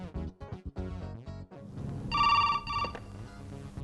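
A telephone rings with a bright, sustained electronic trill over background music and movie sound effects in a dubbed action film scene.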